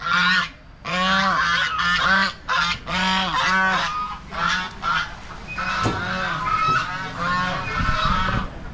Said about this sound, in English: I saw the goose. It was getting ready to attack.